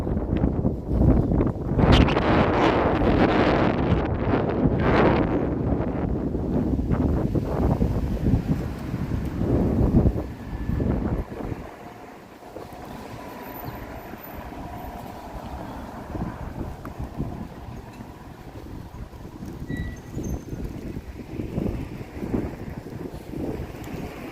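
Strong wind in San Francisco buffets the microphone in a steady roar, gusting harder early on and easing to a lower, rumbling rush later.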